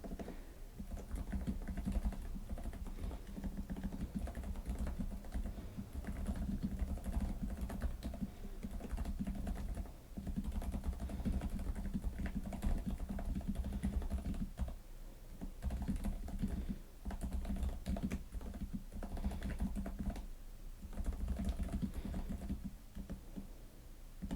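Light, steady typing on a Varmillo Minilo 65% mechanical keyboard produces a continuous patter of soft, close key presses that runs unbroken for over twenty seconds with no speech.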